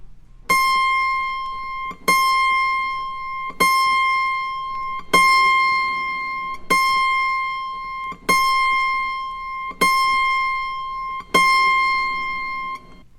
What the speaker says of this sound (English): The final, or last string in the higher octave is the C, which should sound like this.